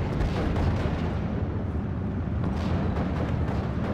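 A mortar carrier fires on Panzer Grenadiers in the Normandy 1944 strategy game Steel Division, with a continuous rumbling low roar of battle and dull booming impacts throughout.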